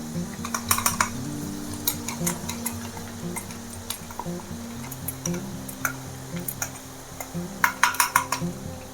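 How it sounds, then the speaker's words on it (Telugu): Spice powder being stirred into hot oil for a South Indian lemon pickle: a spoon clicks and scrapes against the pan in uneven bursts over a low steady hum, with a faint sizzle underneath and no voices. "ఇలాగా పొడి వేసేసుకొని ఒక్కసారి ఇలా కలుపుకొని"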